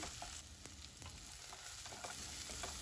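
Grated coconut and roasted peanuts stirred in a pan for green tomato chutney, giving a soft, quiet sizzle with light scraping strokes that keep going throughout, with no voices.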